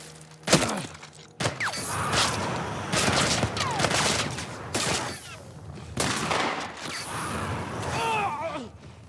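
Bursts of gunfire from The Last of Us Part 1, set in a hospital level, crack out repeatedly in rapid volleys with loud impacts and combat noise, mixed with game voices.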